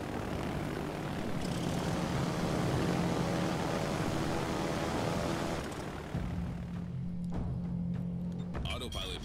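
Propeller dive bombers in a naval battle video game droning loudly, a steady engine roar with a tonal hum that shifts partway through, heard under talk.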